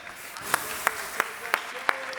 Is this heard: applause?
yes